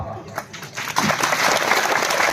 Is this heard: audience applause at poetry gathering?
yes